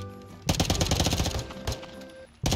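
A full-auto Glock firing in Rainbow Six Siege: two loud, rapid bursts of gunfire, the first sustained for over a second, the second cut off at the end.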